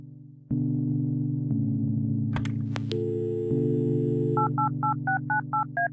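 In the video game Kathy Rain, a phone handset gives off a steady dial tone, then a run of seven evenly spaced, clear keypad beeps as a number is dialed.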